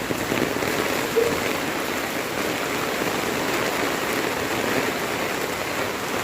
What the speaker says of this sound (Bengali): বৃষ্টিতে অসুবিধা নাই, বৃষ্টিতে কি আছে, এই বৃষ্টিতে নর্মাল বৃষ্টিতে যাওয়া যায় সাথে।